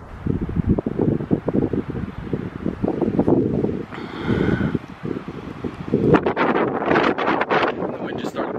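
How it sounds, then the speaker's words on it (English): Strong mountain wind whips past the microphone at a snowy ski area with whitecapped peaks, a continuous rough buffeting rumble that surges louder in gusts, with speech heard in the second half. "The wind just started whipping, so I'm like freezing right now."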